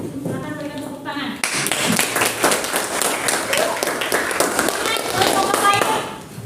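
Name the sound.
group applause in a classroom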